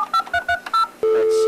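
A telephone number is dialed as a quick series of touch-tone beeps, each short and clear, followed by a steady ringing or line tone.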